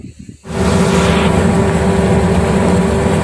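Oceanjet 5 fast ferry engines during departure, kicking in abruptly after a brief quieter moment and settling into a loud, steady, broadband roar with a low engine hum underneath, like powerful marine engines heard from on board.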